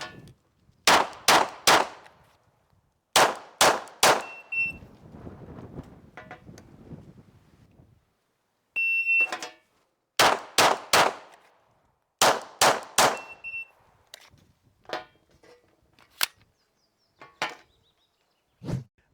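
Glock pistol fired at steel targets during an FBI qualification shooting drill, sharp shots in quick strings of three or four, each followed by a ringing metallic clang, with pauses between strings.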